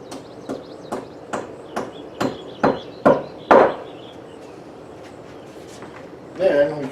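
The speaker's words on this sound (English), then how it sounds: "And then we tap our anchor in place." A hammer taps an anchor into a drilled hole in a brick wall during a shutter installation, about eight sharp evenly spaced blows growing louder, then a pause and a short burst of talk.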